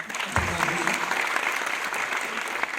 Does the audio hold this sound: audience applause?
yes